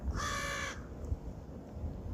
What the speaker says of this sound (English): Our friendly crows.